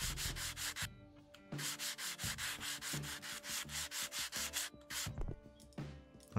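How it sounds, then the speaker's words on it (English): Rapid, rhythmic rasping strokes of sanding wooden rails in a train station renovation video game repeat in bursts, pausing briefly between runs. "we're sanding the rails?"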